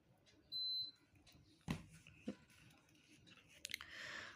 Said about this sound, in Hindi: एक सेकंड ज़रा मैं एसी ऑन कर लेती हूँ।